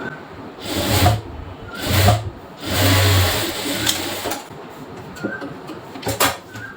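Sewing machine stitching blouse fabric for a size 34 blouse, heard as four or five short, close motor whirring bursts separated by brief pauses.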